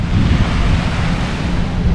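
Ocean surf rolls onto Patong Beach in Phuket as a steady, loud wash of breaking waves, with wind buffeting the microphone throughout and no voices.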